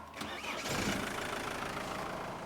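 An engine, likely a classic tow truck's, starts up and then runs steadily at a fairly loud, close level, settling into a rough idle with no talk over it.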